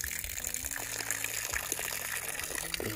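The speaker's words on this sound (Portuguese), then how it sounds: "Deixa eu derramar essa água." Water being poured out at a country farm property, giving a gushing, bubbling flow with shifting glugging tones, steady and moderately close, with no speech.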